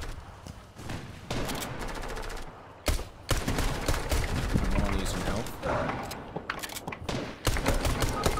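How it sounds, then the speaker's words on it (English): Rapid bursts of gunfire in Fortnite: sharp, loud shots come in quick volleys and clusters, with short gaps between them, mixed with other game noise and a voice speaking in places. "This guy just shot me through a wall"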